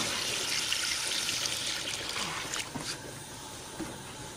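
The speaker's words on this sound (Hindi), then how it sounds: "होर पानी पा देना" Water being poured or added to a pot sitting on a lit stove while cooking, a steady broadband trickling and splashing that fills the whole moment at moderate level, with no voices.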